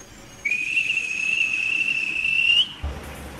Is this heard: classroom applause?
no